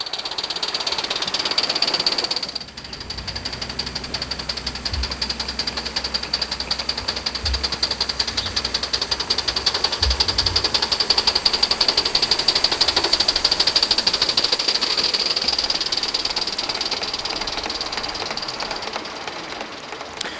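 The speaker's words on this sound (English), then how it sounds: "you hear the beats from the chimney, you hear the clatter of the wheels going over the rail joints" A Gauge 1 model steam locomotive on a garden railway chuffs steadily with rhythmic exhaust beats and faint wheel clatter over rail joints, continuous and fairly close, with no voices.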